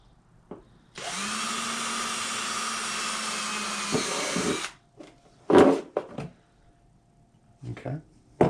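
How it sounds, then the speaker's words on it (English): A power drill bores holes in a Camco RV refrigerator roof cover, a sustained high whine lasting several seconds before winding down, followed by scattered knocks and clatter of handling parts nearby. "Alright, so let's drill out the D holes."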